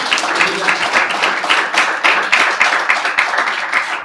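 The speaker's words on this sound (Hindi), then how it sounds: "खुदावंद के लिए तालियां बजाएं।" Church congregation clapping along at an Easter Sunday service, a dense, steady run of many hands filling the room with a lively, fairly loud rhythm throughout.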